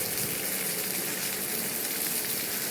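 Drumstick pieces frying and being stirred in a spicy tamarind curry pan alongside dried fish: a steady, dense sizzle that holds evenly throughout, close and fairly loud, with no talking.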